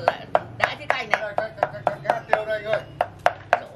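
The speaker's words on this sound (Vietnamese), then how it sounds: "Đây đang băm đồ tiết canh này" Ingredients for Vietnamese pig blood pudding are chopped on a board at a Tết pig slaughter: a dozen loud, close knife strikes in a steady, brisk rhythm.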